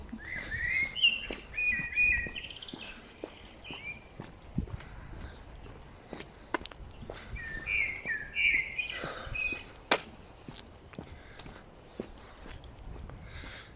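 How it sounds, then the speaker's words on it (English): Birds sing in two bursts of chirping on a quiet York street, with scattered footsteps and faint street sounds in between. "with just the birds"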